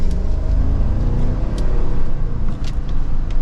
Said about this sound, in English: just a slight acceleration, we are up to speed for this pretty much six-figure Cadillac Escalade